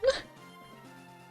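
A single short, sharp sneeze bursts out near and loud at the start, followed by quiet background game music.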